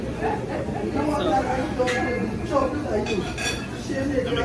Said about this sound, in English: they usually don't give you silverware, but they gave us silverware this time